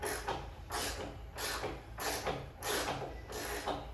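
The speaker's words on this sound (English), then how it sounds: "I could not get the pins out, and I literally am doing it with a wrench, and it's working perfectly." A wrench ratcheting back and forth to loosen pins on a milking table, six regular bursts of clicking about every two-thirds of a second, close and fairly loud with no talking.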